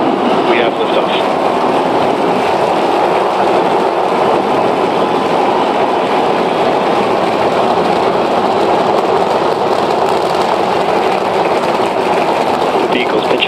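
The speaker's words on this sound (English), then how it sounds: "We have liftoff." SpaceX Starship Flight 7 lifting off, a loud, dense and continuous rocket roar that stays constant throughout.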